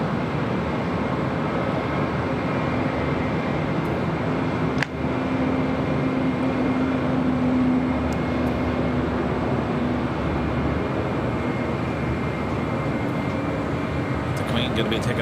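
A China Airlines Airbus A350-900 bound for Taipei takes off from runway 25 Left at LAX, a steady loud roar of jet engines holding throughout with a faint thump near the middle.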